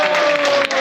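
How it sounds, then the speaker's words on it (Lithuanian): Audience applause at a Lithuanian theatre quiz game, a short burst of dense clapping that briefly dips near the end. "Plojimai."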